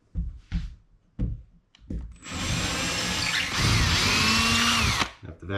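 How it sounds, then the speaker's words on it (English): A power drill bores anchor holes into a wall, starting with a few short bursts and then one steady, loud whine of several seconds that rises and falls in pitch as the bit cuts. "Drill my holes the same way."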